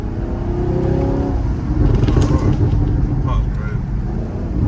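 A Chevrolet Camaro SS revs up loudly close by, its engine swelling and roaring with crackling exhaust pops, while people talk over it.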